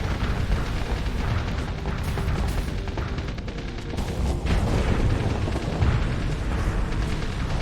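A volley of two singularity torpedoes detonating in Starsector space combat, a steady roar of deep booms and crackling blasts layered over continuous battle noise.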